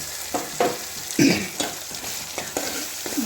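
Tomato and chili paste being stirred into a sizzling egg masala gravy in a pan, repeated scraping strokes of a spoon over a steady fry, close and moderately loud, no talking.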